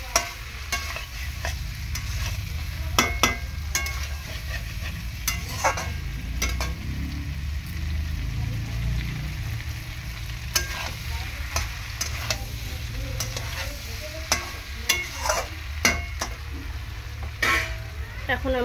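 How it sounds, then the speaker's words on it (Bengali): Potatoes fry and get stirred in a pan for a jackfruit curry, giving a steady sizzle broken by repeated sharp scrapes and clatters of the spatula, close and clear with little talk. "আলুটা একটুখানি কষিয়ে নেওয়ার পর এঁচোড়টা দেবো।"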